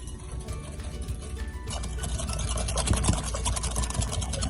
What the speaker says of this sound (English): we're gonna whisk that up and make sure it gets nice and thick